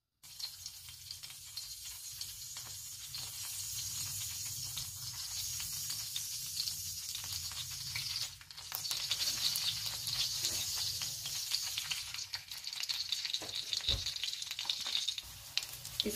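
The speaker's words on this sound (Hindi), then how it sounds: "इसके ऊपर हम अपने कटलेट्स रखते हैं" Potato tikki cutlets shallow-fry in hot oil with a constant crackling sizzle that grows louder about halfway through, close by, with no voices.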